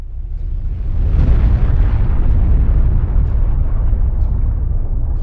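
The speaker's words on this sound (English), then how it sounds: "we're breaking down the most important direct effects of a nuclear explosion" Nuclear explosion blast in the game Nuclear War Simulator: a loud, deep, sustained roaring rumble that swells after the first second and keeps thundering without letup.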